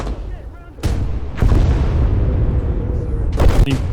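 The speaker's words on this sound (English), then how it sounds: "as a rocket barrage rains overhead, trying to do as much damage as they can to kill it" Artillery shells and a rocket barrage explode across a World War II strategy game battlefield with German infantry and tanks, giving heavy overlapping booms and rumbling blasts, several sharp close impacts over a constant roar of battle.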